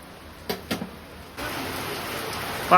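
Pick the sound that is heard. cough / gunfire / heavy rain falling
heavy rain falling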